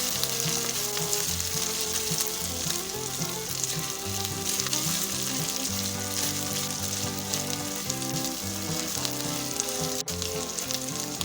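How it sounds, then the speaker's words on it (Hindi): Garlic and ginger paste sizzles steadily in hot oil while making dal makhani, a dense, continuous frying crackle with no voices over it. "लहसुन को भी अच्छी तरह फ्राई कर लेंगे ऑयल में।"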